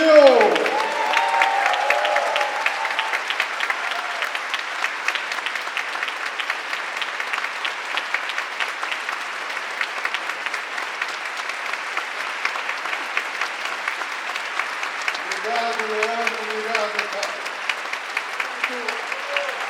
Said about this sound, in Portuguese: Palmas para o Jamil.